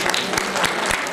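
An audience applauds a man named Naveed, a dense, steady patter of many hands clapping at once, filling the short stretch without any voice.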